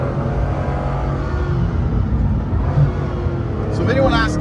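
A Bugatti Chiron Pur Sport hypercar accelerates hard with full traction control in normal mode, a steady heavy engine rumble and road roar from inside the cabin that builds near the end.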